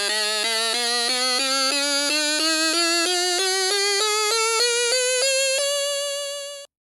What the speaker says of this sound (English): the stylophone is a tiny keyboard that you play with a stylus